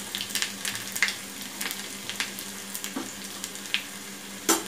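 Chopped shallots frying in oil over lowered gas for a Kerala parippu muringakka curry, a bright crackling sizzle with scattered sharp pops and spits, close and unbroken, no voices.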